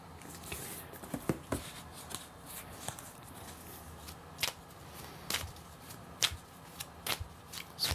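A Chronicles of Destiny fortune card deck being shuffled, soft papery riffles and flicks at a quiet, close level with scattered sharper card snaps.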